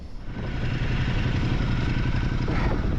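A Ducati Multistrada 1200 motorcycle idles with a close, steady mid-pitched rumble and light mechanical clatter while being maneuvered to turn around on a cold road in Patagonia.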